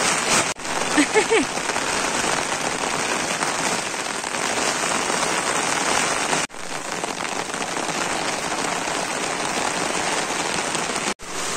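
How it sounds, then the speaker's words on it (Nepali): Heavy rain pounds down on a surface outdoors, a loud, dense and unbroken hiss of drops that fills the whole stretch at close range. "यति ठुलो पानी पर्या हो"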